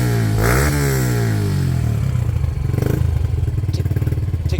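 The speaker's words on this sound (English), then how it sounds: "then we can try fire it and see if she starts up" A Honley HD2 125 motorcycle, just revived after a carburettor clean, fresh fuel and a big aftermarket exhaust, runs close up, revving up and dropping before settling into a rough, rapid, pulsing idle.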